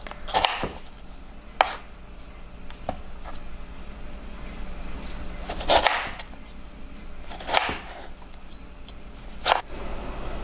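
A knife chops beef on a cutting board for bo luc lac, shaken beef, with sharp, isolated thunks spaced a second or two apart against a quiet kitchen background.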